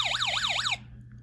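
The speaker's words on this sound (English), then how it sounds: "alarms like these can be used to detect water" A loud electronic alarm from a homemade water detector circuit warbles up and down in a rapid siren-like sweep for under a second, then cuts off abruptly, leaving a low hum.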